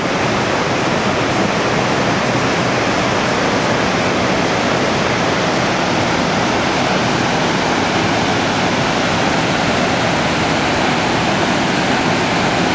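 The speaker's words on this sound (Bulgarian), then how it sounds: "Това е втори водопад." A second waterfall on a motorcycle route toward Nordkapp, Norway, its steady broadband roar rushing continuously and loudly with no letup and no voices.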